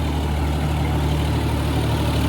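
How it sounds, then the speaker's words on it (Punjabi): A tractor's heavy diesel engine drones steadily at a low, even pitch while pulling a nine-foot rotavator, close and loud throughout, with no voices. "ਦੇਖੋ ਜੀ ਆਰਾਮ ਨਾਲ ਜਾ ਰਿਹਾ ਟਰੈਕਟਰ"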